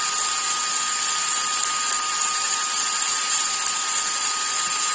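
A small outer-rotor electric motor runs steadily with a thin, high, even whine and faint hiss, close by and unchanging throughout, with no talk.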